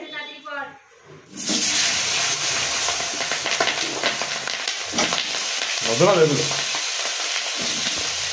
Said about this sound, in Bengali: তো এবার মাছ রান্নার জন্য নতুন আলুগুলো ভালো করে ভেজে দিচ্ছি।